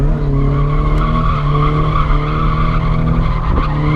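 A Nissan 350Z drifting, its tires skidding and squealing in a loud, sustained screech over a steady engine drone, close by and with no talk.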